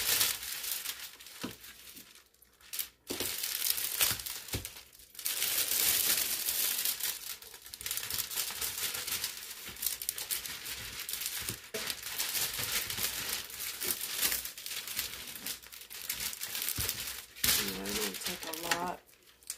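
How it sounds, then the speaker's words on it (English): Cellophane cello wrap from Dollar Tree crinkles and rustles almost continuously while a candy board is being made, with sharp crackling bursts and brief pauses, loud and close. "this is cellophane. It's called cello wrap, which you get from Dollar Tree"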